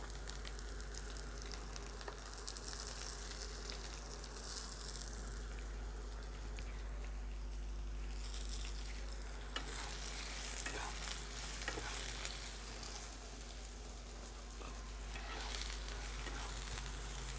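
Potatoes and eggplant sizzle steadily in a pan with salt while being stirred now and then, a constant faint hiss with occasional scrapes and no talk.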